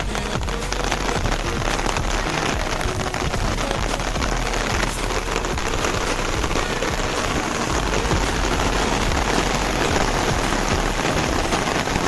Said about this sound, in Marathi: आता पाऊस आला काळोख झाला अचानक आणि धुकं बघा